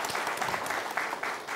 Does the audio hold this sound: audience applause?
yes